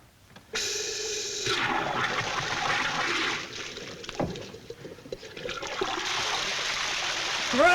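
Water gushes from a newly opened pipeline valve, a sudden rush that flows and splashes steadily, dips briefly midway, then resumes strongly.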